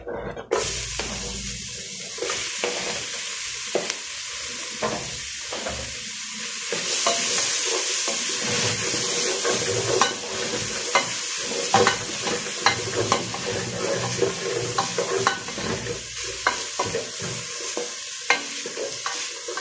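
Chopped onion sizzles loudly in a pan for Peruvian chicken picante. A dense, steady frying hiss continues throughout, with frequent stirring clicks and scrapes and no speech.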